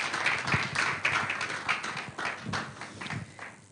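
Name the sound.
audience applause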